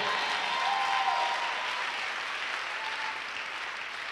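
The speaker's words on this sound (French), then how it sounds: "Acclamons le Seigneur." A church congregation applauds during a worship service, a dense sustained wash of clapping from many hands that continues evenly throughout and tapers slightly toward the end.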